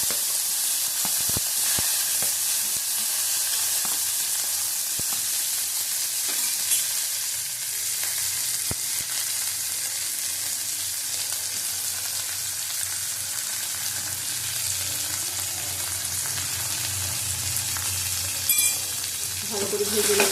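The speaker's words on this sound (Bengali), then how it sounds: "ভালো করে ভেজে নেব" Bitter gourd pieces frying in hot oil with a dried red chilli, giving a steady, close sizzle that runs evenly throughout with a few soft stirring knocks and no talking.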